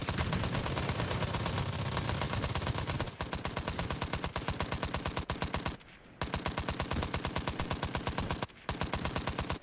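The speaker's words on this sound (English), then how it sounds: "I'm gonna see about manning that machine gun, and we're gonna tear up into some Germans" Sustained machine gun fire from the video game Trenches, a loud, rapid, evenly spaced stream of shots running almost without pause, broken only by two short gaps.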